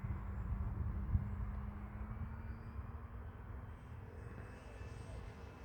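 A HobbyKing Yak-11 RC model airplane, its engine held just over half throttle, gives a steady, faint drone in flight, with a voice talking quietly beneath it.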